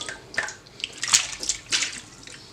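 Vegetables are swished and rinsed by hand in water mixed with a little bleach, giving soft, irregular splashes and drips. The sloshing is close and moderately quiet, with no one talking.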